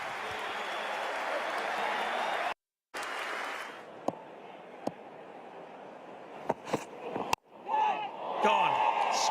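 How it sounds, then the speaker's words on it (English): Applause from the crowd at a cricket match at Eden Park, a broad wash of clapping and cheering that breaks off abruptly, then returns fainter with scattered sharp claps and a commentator speaking. "Listen to the applause."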